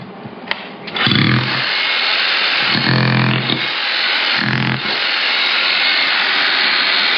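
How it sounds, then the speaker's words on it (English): A MIG welder running off a battery through a 3000W inverter gives a steady, loud electrical buzz and hiss that holds throughout, with three sputtering bursts of arc crackle, and no talking. "MIG welder powered by a battery off of an inverter"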